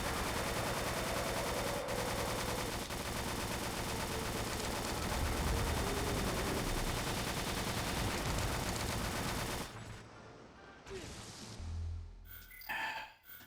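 A Gatling gun fires in a bug-extermination video game, a dense, relentless burst roaring for about ten seconds before cutting off abruptly, leaving a few scattered, quieter thumps.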